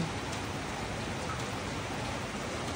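Steady, dense rain pouring during a typhoon with no wind, a constant close hiss of drops on surfaces filling the whole clip without pause, no voices or other sounds.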